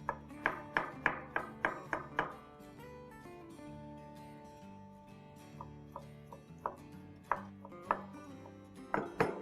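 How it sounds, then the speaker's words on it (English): A knife chops mushroom stems on a board with quick bursts of crisp, rhythmic taps, pausing midway before resuming in steady clusters, close and clear over a quiet background. "So let's take the stem and chop it up nice and fine."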